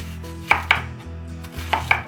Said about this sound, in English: now we're just going to start by cutting up our onions